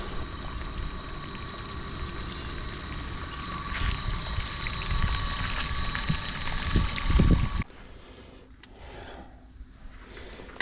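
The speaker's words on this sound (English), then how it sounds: "first job I've got to do is turn the electric pump on to pump the pit out" An electric pump runs steadily, emptying rainwater from a pit in a trucking yard, with a constant whirring hum and rushing water until the sound drops away abruptly near the end.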